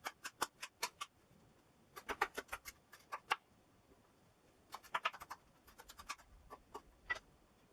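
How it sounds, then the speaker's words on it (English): Knife chopping red pepper on a cutting board for a chorizo and onion Spanish tortilla, clusters of quick crisp taps in short bursts separated by pauses, fairly quiet and close. "We're going to cut that down to about the same sort of size."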